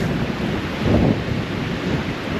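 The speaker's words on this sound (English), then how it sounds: "it's super windy" Strong wind gusts roar across the microphone in a steady rumbling rush among trees in the loess hills, swelling briefly louder near the middle.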